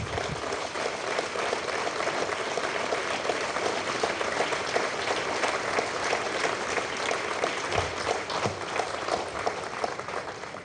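An audience at an Arianespace Soyuz launch event for Galileo satellites applauds, with steady dense clapping throughout, fairly distant and without clear speech.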